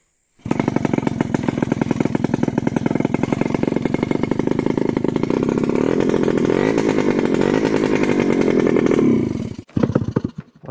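A straight-piped moped engine bursts into a loud, raw, rapid-firing roar that holds steady for about nine seconds, then cuts out abruptly, followed by a brief final sputter.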